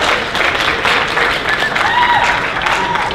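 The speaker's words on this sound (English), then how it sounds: "And give a round of applause, Maurice, everybody." Crowd applause at a convention opening ceremony, a full burst of clapping from the audience with scattered whoops, holding steady for a few seconds.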